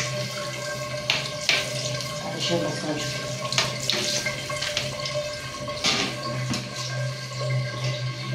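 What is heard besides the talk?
water running from a tap into a storage tank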